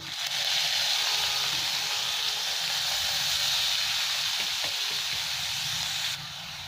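Chopped onion fries in hot oil with bay leaves and whole cumin, giving a steady, close, bright sizzle and hiss that lasts several seconds, then eases slightly near the end.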